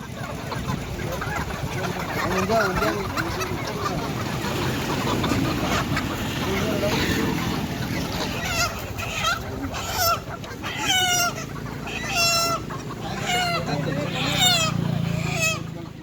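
Country chickens, native birds sold for vow offerings, cluck and cackle at a busy summer Bandi festival street market near Gokarna in coastal Uttara Kannada, with steady crowd chatter and voices throughout and louder bird calls toward the end.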